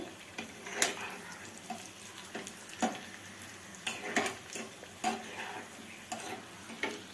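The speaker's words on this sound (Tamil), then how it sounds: "நெய் சூடாயிருச்சு முந்திரியை போட்டு வறுத்து எடுத்துக்கலாம்" Cashews frying in hot ghee give a soft sizzle with scattered clinks and scrapes of a spoon stirring in a pan, intermittent taps spread across the clip, no voices.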